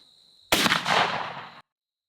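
A single close, loud shotgun blast from a Franchi Affinity 3 fitted with a Muller choke, a sharp crack with a short decaying tail before cutting to silence.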